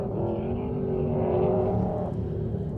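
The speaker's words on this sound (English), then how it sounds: "as you can hear, quite literally, tyres do squeal on dirt" Trophy Truck racing at speed on a dirt desert course, engine roaring loudly and steadily with a sustained high-pitched tyre squeal running through the middle of the pass.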